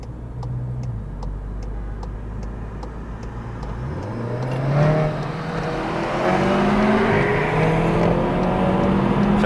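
A Seat Leon FR accelerates hard in a rolling race against another car: a low engine drone climbs into rising, rev-sweeping tones that grow louder and stay strong to the end, with no talk.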